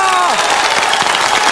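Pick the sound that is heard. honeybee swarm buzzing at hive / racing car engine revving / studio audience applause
studio audience applause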